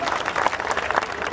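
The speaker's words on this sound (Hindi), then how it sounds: "तालियां कम हैं।" An audience at a Hindi comedy poetry show claps in a steady, fairly loud wash of applause that carries on unbroken.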